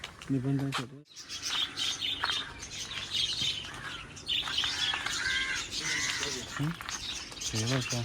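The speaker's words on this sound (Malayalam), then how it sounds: "നല്ല രസമുണ്ട് കിളികളൊക്കെ ഉണ്ട്" Birds chirp and call steadily through the scene while people talk nearby, with a brief dropout near the start.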